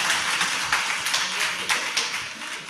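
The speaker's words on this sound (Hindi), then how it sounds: "ये तो बार बार तालियां बजाते हैं" An audience claps during a Hindi sermon, a steady rapid patter of many hands with rhythmic surges, moderately loud and filling the hall.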